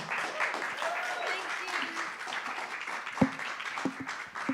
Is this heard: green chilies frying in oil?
no